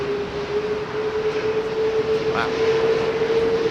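A Lockheed TriStar jet with three RB211 engines roaring at takeoff thrust at a windy Heathrow Airport, a loud steady rumble with a sustained whining tone, as a voice exclaims briefly.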